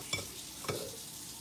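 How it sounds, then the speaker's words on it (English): A spoon stirs vegetable soup in a pot: two quick, quiet scraping strokes about half a second apart, with a soft background hiss between them. "now all I gotta do is to mix it together"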